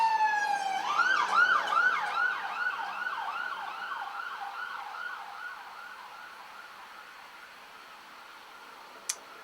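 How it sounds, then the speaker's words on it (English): A wailing emergency siren sweeps up and down, loud at first and then gradually fading as it passes into the distance. "And there's a loud siren going past."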